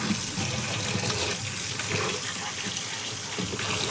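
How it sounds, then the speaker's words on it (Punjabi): Tap water runs steadily from a kitchen faucet while mushrooms are rinsed beneath it, a continuous broadband splash and gush that stays at a fairly even level throughout, with no one speaking. "ਮਸ਼ਰੂਮ ਨੂੰ ਆਪਾਂ ਪਹਿਲਾਂ ਧੋ ਲੈਨੇ"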